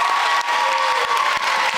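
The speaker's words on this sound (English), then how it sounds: "let's have a round of applause for that" Audience applause at a school band concert, a steady wash of clapping with some cheering from the crowd, sustained and fairly close throughout.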